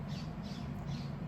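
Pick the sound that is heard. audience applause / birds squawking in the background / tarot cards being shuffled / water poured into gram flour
birds squawking in the background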